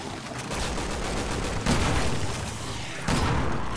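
Gunfire in the video game Resident Evil 6 during Leon and Helena's final battle, a steady loud barrage of shots and booms, with two sharper surges.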